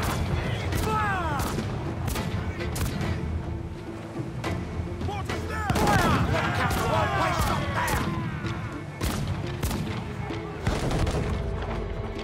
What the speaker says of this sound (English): Holy shit, 5 shots?